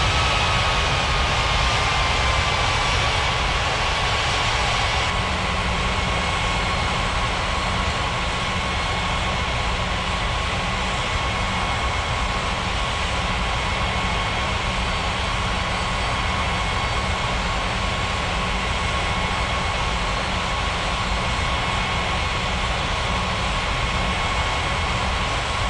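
Aircraft engines drone as jets taxi in an air traffic control video game, a loud, steady, unbroken roar with a faint whine that goes on for nearly half a minute, with no talk.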